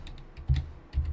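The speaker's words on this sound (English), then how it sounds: "Head over to search and just type in Logica" Several quick keystrokes on a computer keyboard entering a search term, a few close soft taps in two small clusters within about a second.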